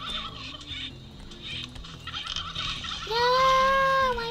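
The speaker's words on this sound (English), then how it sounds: "Sounds like a bunch of turkeys." A flock of turkeys gobbles in the Spiral Knights video game, a dense run of rapid, warbling calls overlapping throughout, then one loud, sustained, bending tone rises near the end over the chatter.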